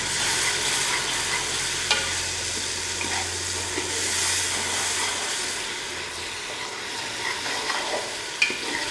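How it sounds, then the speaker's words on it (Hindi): Ginger, garlic and chili paste fries with onions in a pan for aloo keema, giving a steady, close sizzle with scattered stirring scrapes and a few sharp clinks. "इस टाइम पे आके आप इसकी बुनाई हो रही है अदरक लहसुन की"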